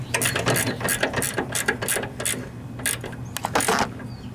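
Thin half-inch ratchet tightening a riding lawnmower's steering linkage, giving close, quick bursts of pawl clicking in uneven runs with short pauses between strokes.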